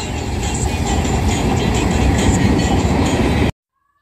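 A train rumbles past close by, a loud, continuous roar of rolling wagons that cuts off abruptly.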